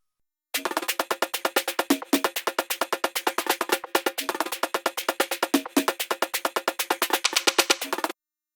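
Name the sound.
electronic percussion pattern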